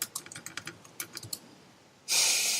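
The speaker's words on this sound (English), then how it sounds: "you're typing up a storm." Rapid clicking keystrokes on a computer keyboard come through a podcast microphone in quick bursts, then give way to a louder, steady hiss near the end.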